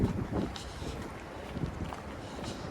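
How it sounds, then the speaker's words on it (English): Wind gusting along a downtown Toronto street on a mild winter day, a steady broadband rush with rumbling buffets that rise and fall, close to the microphone and with no talking. "I think the wind is really making things a lot cooler."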